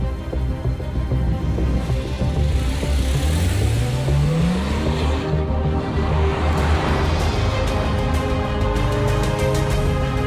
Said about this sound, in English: you will find the electric ignition switch for starting the engine